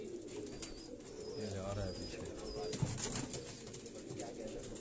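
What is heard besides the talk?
Jaunsari breed pigeons cooing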